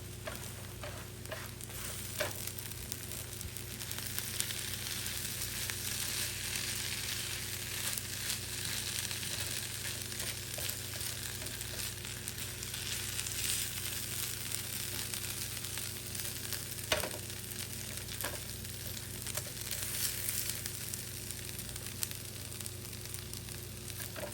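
Butter sizzles and fries steadily in a pan on the stove for an everything bagel breakfast, a continuous near hiss with small crackles and occasional stirring scrapes, no voices.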